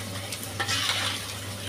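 Beef haleem being stirred in a pot, a steady soft scraping and bubbling texture that swells slightly midway, close and alone over a low background hum.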